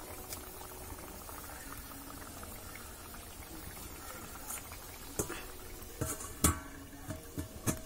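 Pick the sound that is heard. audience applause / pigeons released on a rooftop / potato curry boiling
potato curry boiling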